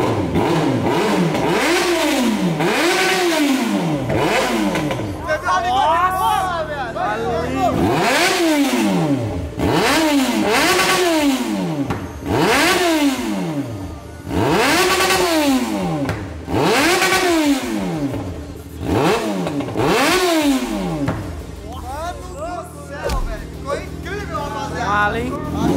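A Yamaha XJ6 motorcycle engine revs repeatedly in rising and falling surges, loud and close, with people talking over it throughout.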